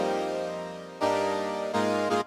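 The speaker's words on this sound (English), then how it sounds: "And then on top of it is this synth layer," Sustained synth pad chords layered over a jazzy pop beat, a held tone that swells into two brighter chord changes before cutting off abruptly, smooth and close with no voices.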